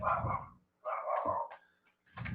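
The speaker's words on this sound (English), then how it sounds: "Let me go see what this dog's barking at." A dog barks nearby in loud, separate bursts, about three barks with short silent gaps between them.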